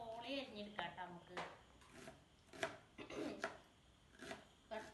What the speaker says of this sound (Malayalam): സവോള അരിഞ്ഞെടുക്കാം